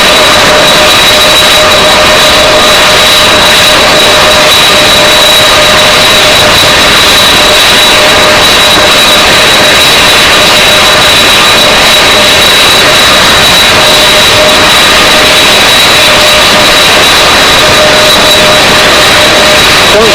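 Powerful jet engines of a parked C-5 Galaxy transport at an air show roar continuously and loudly, a dense steady blast with a sustained high whine running throughout.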